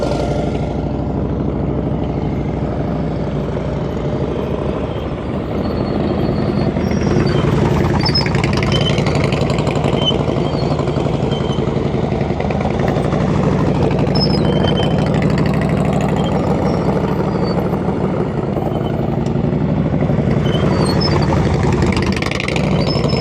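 A motorcycle engine runs continuously at low revs during advanced slow-speed riding practice in Georgia, with a steady throttle-held rumble that swells slightly at times, loud and close throughout.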